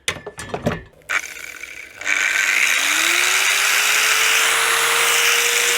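Angle grinder powered through a 2000 W inverter from a 12 V car battery: a few clicks and knocks, then the motor starts and spins up with a rising whine into a steady, loud high-pitched hum.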